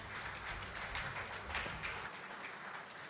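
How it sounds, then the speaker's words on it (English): A conference audience applauds, a broad wash of many hands clapping that stays fairly distant and quiet, sustained steadily for about three seconds with no speech over it. "A round of applause, please."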